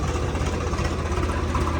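A tractor engine idles steadily nearby, a continuous low rumbling throb with an even mechanical pulse and no other sounds.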